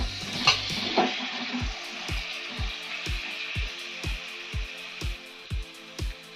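Chopped tomato pieces drop into a sizzling gongura chicken masala with chili powder, giving a couple of soft splats, then a steady fry hiss with an even, regular tapping of a spoon or spatula against the pan.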